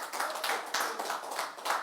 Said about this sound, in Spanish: Denle fuerte aplauso a Cristo porque es para Él,